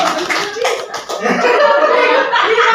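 A group of teachers claps in a counted rhythm as a classroom attention routine, sharp bursts of hand claps followed by mixed voices and light laughter.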